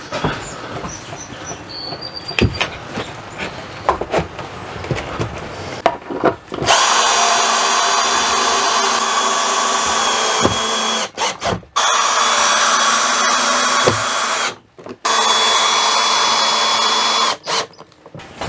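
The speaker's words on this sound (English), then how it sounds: "I'm gonna get all those jam nuts tightened up" A power tool tightens jam nuts on a BAL Accu-Slide RV slide-out with a broken gearbox, starting with scattered clicks and knocks, then long loud droning bursts that cut off and restart several times.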